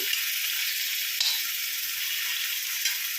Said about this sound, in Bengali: আর একটুখানি ভাজা হবে এখনো ভাজা হচ্ছে একটু সময় লাগবে